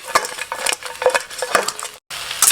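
A spatula stirs fried snakehead fish and holy basil in a hot pan for a spicy Thai stir-fry, with close, quick scraping and clinking strokes in an uneven rhythm, a brief silent gap, then more clatter.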